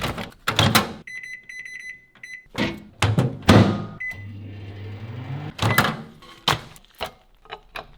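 Microwave oven heating an Italian style beef lasagna: a low steady hum runs between loud door clunks and handling thumps, with a few short electronic beeps near the start, close by and without talk.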